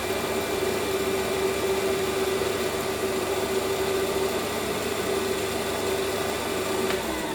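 Metal lathe cleaning up the outside diameter of a workpiece in a home shed, a steady close motor hum with a constant whine and broadband cutting hiss running unbroken throughout, no talking.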